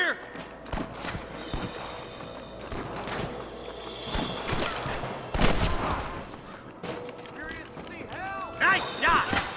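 Gunfire rattles through a frontier camp shootout in Red Dead Redemption, a mix of scattered shots and quick volleys under shouting voices, with hoofbeats and other battle noise around them.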